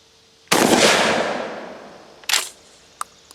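A GForce GF12 pump shotgun fires one loud, sharp close shot that rings out and decays, followed by a brief clacking burst like the pump action and a single small click.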